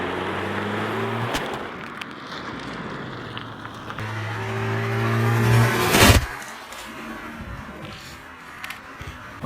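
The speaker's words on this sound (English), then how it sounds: "I want to know how it fares against a car running it over." A car engine hums and revs nearby as it rolls over a smartphone lying on the ground during a drop test, building to a louder crunching burst before settling back to idle.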